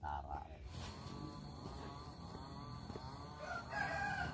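Chickens cluck and a rooster crows amid a busy outdoor background, with people talking nearby.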